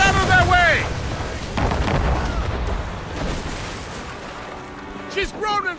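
Ship cannons boom and explosions rumble during a naval battle between men-o'-war in the Assassin's Creed Rogue video game, heavy low blasts mixed under shouted crew voices at the start and near the end.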